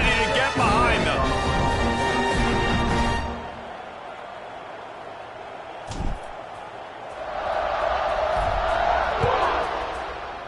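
A college football stadium crowd roars loudly before kickoff, a dense cheer that fades to a lull, a sharp thump, then a rising second swell of noise.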